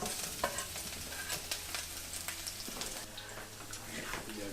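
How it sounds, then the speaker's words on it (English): Garlic and onions sauté in a wok with a soft continuous sizzle, broken by frequent scraping and clattering stirs, heard close but at low volume with no talking. "we're going to be sauteing some garlic and onions"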